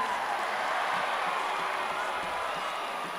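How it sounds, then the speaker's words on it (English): A home crowd roars and applauds at a college football game between UTSA and North Texas, a dense, sustained wash of cheering that holds steady from start to end. "The rare occurrence where you hear the home crowd cheer for a third down."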